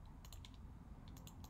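A computer keyboard clacks with several quick, sharp key taps in small clusters, close but quiet over a low hum.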